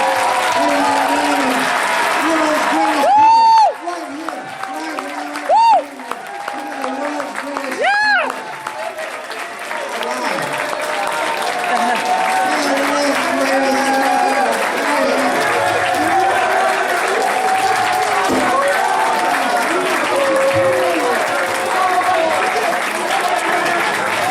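An audience at a grad night hypnotist show breaks into loud sustained applause and cheering, with whoops rising above the clapping early on, continuing steadily for the whole stretch.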